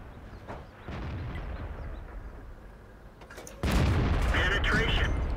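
A heavy tank cannon blast in World of Tanks booms out suddenly, loud and deep, followed by rumbling reverberation amid game background noise.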